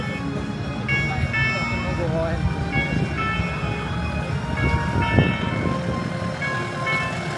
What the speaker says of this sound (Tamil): மேலே ஒரு ட்ரெயின் போகுது கீழே ஒரு ட்ரெயின் போகுது